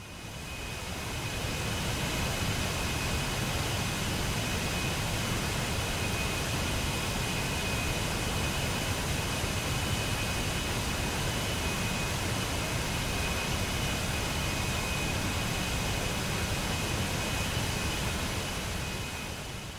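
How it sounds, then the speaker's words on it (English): The MiG-29S jet engine in DCS World spools up with a loud, steady turbine roar and a high whistling tone, holding constant and close for the whole stretch without any talk. "we're waiting for engine 2 to come up to speed"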